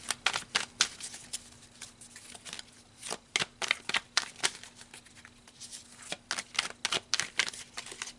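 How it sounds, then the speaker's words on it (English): Tarot cards being shuffled by hand, quick crisp riffling bursts repeating in an irregular rhythm, close and clear with no talk over them. "let's pull some more cards, some tarot cards, to clarify these dice."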